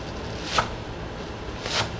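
A knife slices through a tightly rolled bunch of fresh garden greens: two soft, crisp cuts over a second apart, close by and quiet, with no voices.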